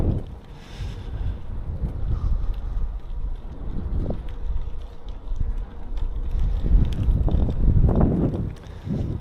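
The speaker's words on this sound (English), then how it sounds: "And then now the wind, it's not bad wind, it's a little bit, but it's not bad." Wind buffets the microphone in a continuous low rumble while a bicycle rides downhill outdoors, with rushing gusts and a few thumps from the road.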